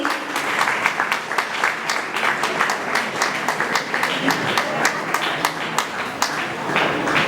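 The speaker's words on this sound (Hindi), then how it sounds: "प्लीज तालियां हमारे गेस्ट के लिए।" Steady, dense applause from an inauguration audience, many hands clapping continuously at close range for several seconds.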